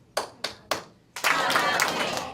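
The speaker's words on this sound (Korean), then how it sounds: "박수를 좀 주시고요." Three sharp single claps ring out in a church hall during a special gathering for children, followed by a burst of full audience clapping that swells and carries on steadily.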